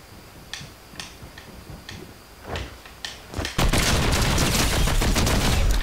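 A new gun fires in the Fortnite video game: a series of sharp single shots spaced about half a second apart, then a dense, loud burst of continuous gunfire taking over for the final two seconds.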